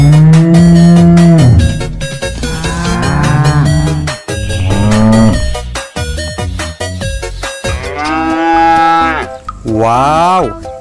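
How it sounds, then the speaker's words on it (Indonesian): Yellow cattle being loaded onto a truck moo loudly and repeatedly, several long, drawn-out bellows close by, one after another with short pauses between. "Wadidaw, lihat ini, ada sapi warna kuning teman-teman"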